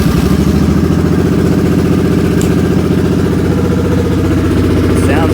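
A Suzuki M50 motorcycle engine idles steadily after starting, a close, loud, even low rumble with a rapid pulsing beat that holds the whole time.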